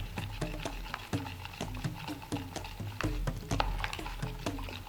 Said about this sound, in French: C'est de l'eau distillée, Et voilà, je mélange.